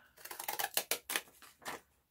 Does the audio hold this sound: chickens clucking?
no